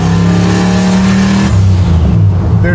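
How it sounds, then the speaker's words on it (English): A turbocharged American V8 in a Chevy C10 pro touring build revs loud and close, holding a steady growl before dropping to a rougher burbling note, with no voices. "There's nothing like American V8 for me."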